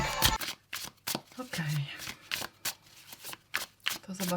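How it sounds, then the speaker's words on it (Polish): Runic tarot cards are handled, shuffled and laid down on a surface, giving brief close papery slaps and rustles in uneven bursts, with someone speaking over much of it. "Położymy trzy karty, zobaczymy jak one wyglądają."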